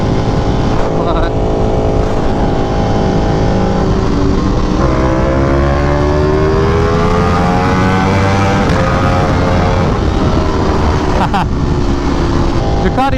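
A Ducati Panigale V4R motorcycle engine roars while riding, its pitch climbing and easing through smooth revving sweeps, loud and close beneath ongoing talk.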